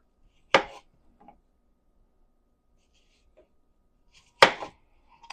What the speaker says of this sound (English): I'm just going to slice off that a little bit